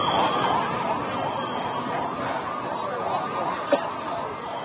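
Ambulance sirens wail continuously at the Air India plane crash site in Ahmedabad, a steady rising-and-falling tone over a dense background roar, with one sharp brief click near the end.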